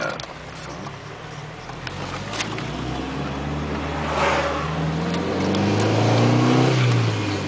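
A 1981 Honda Accord with a 1.6 engine accelerates on the road, its engine note rising steadily through the gears from the cabin, a continuous droning hum with road noise growing louder toward the end.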